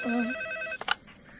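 Telephone ringing in a shop, a clear electronic ring with steady harmonic tones, close and loud, cutting off after about a second with a couple of clicks and a short noisy burst.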